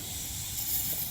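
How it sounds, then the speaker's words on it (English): An aerosol can sprays coating onto the gears of a Scout Dana 44 axle, a short steady hiss heard up close with no talk. "I'll probably spray some of this just to coat the"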